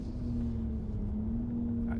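Inline-six engine of a BMW X4 M on a hot lap, holding a steady, fairly quiet in-cabin drone with a sustained engine tone, and no sharp revs.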